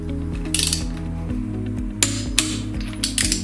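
Torque wrench clicking as lug nuts on a car wheel are tightened in a star pattern to about 100 foot-pounds, giving a steady run of close, sharp mechanical ratcheting clicks over a constant low hum.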